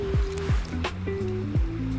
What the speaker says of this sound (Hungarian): itt azért zúg lefele a víz